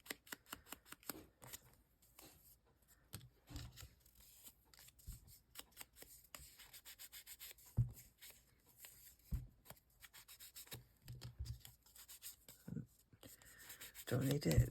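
An ink pad is rubbed along paper edges for a junk journal, giving soft, intermittent scraping and dabbing strokes up close, with quiet handling noises and some talking in between.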